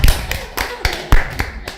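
A few hands clapping in an uneven rhythm during a school interview with an arts teacher, sharp close claps with talk around them.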